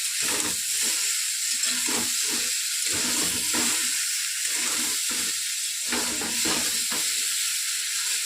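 Young mango pieces frying in a little oil, a loud continuous sizzle and hiss close by, broken by repeated scraping strokes as they are stirred in the pan.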